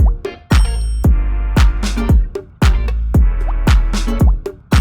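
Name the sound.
Prophet 5 synth with clavinet rhythm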